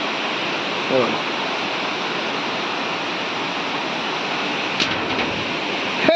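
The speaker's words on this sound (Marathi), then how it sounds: "हे बघा पाण्याला ओढ जास्त आहे वेग जास्त आहे पाण्याला" Fast-flowing river water near a temple in Ratnagiri roars steadily and loudly nearby, a constant rushing wash with a couple of brief voice-like sounds on top.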